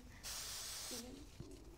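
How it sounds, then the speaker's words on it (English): A can of finishing hairspray lets out one steady, close hiss lasting under a second, then falls silent before a voice murmurs briefly. "And then I'll get my finishing spray, make your teepee."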